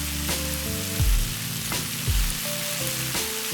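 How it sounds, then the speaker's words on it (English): A pan sizzles steadily while tomatoes with salt and chili flakes are stir fried, with a few soft scrapes of a utensil at regular intervals. "Keep stir frying."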